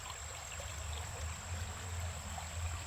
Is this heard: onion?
no